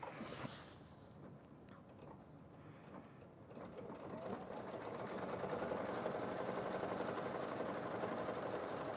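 An embroidery machine stitches a mug rug with a steady, close mechanical whir and rapid needle clatter that grows slightly louder partway through, with no talking.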